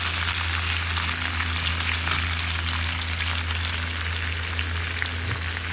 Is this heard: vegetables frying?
yes